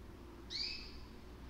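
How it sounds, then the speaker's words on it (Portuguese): A small bird gives a single short, high chirp over a faint background hum, quiet and somewhat distant, with no talking. "o passarinho está cantando"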